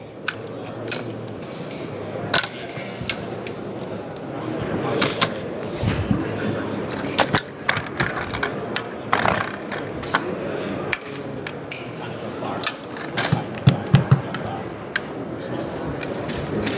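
KJI tripod legs for long-range shooting being locked and extended, with a string of clicks, snaps and metallic knocks scattered among steady talking from a man.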